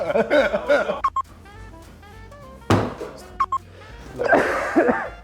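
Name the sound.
cough and sneeze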